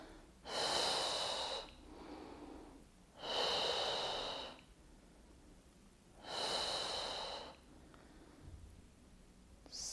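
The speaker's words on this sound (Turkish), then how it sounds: "Burundan nefes alıp ağızdan veriyoruz nefesi." Slow, deliberate breathing in through the nose and out through the mouth during a pregnancy exercise session, with three long, close airy breaths spaced a few seconds apart and quiet pauses between them.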